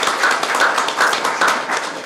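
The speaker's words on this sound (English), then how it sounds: "If we could give them a round of applause" An audience at a legislative crackerbarrel session claps in a brief round of applause, a fairly loud, moderately dense patter of hands in a room with no speech on top.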